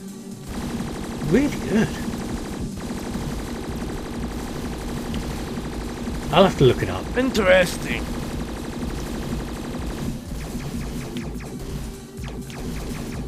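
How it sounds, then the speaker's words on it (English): A Sony PSP shooter video game plays a continuous rapid shooting sound effect over a chiptune-like backing, with bursts of louder effects, while someone talks over it. "Completely drown it out with this shooting sound effect"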